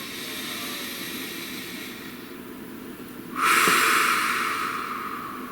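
A long, deep breath drawn in and pushed out close to the microphone, a steady breathy rush that swells into a louder airy exhale partway through, with no one speaking.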